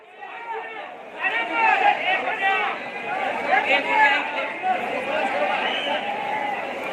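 Noisy crowd at the Solapur onion market, a dense steady babble of many voices and bustle close around, with a voice talking over it throughout.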